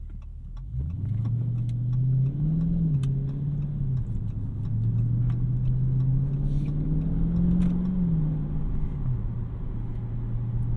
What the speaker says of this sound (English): You get a little bit of burbles from the exhaust, which is pretty cool.